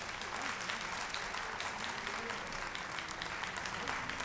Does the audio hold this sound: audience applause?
yes